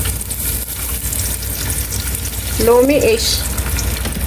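Onions fry in oil in a pot with a continuous close sizzle and crackle that swells slightly louder toward the end, while a voice speaks briefly over it.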